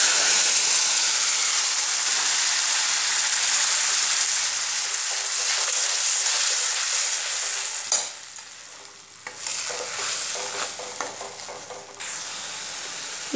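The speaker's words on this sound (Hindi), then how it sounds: "मसाला को थोड़ा भून लेंगे और इसका टमाटर, ऑनियन, ग्रीन चिली का पेस्ट" Masala paste of tomato, onion and green chili fries in a pan with a steady, loud sizzle and hiss, briefly interrupted by stirring around the middle before the frying resumes. Close and continuous, with no talk.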